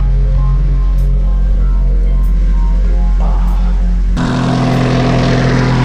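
An engine with a newly fitted exhaust runs steadily at close range with a low droning hum, then abruptly shifts to a rougher, louder tone near the end.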